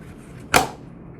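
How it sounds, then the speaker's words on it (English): A single short sharp snap as the spool cap clicks into place on a Toro 51443 string trimmer, close and brief against a quiet background. "line up the tabs on the spool cap with the openings on the spool and snap the cap into place"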